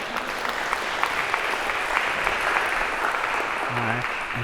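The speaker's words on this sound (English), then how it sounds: "maybe a round of applause to break the awkwardness here" A lecture hall audience applauds steadily, a dense wash of many hands clapping at an even level throughout, with a brief voice murmuring near the end.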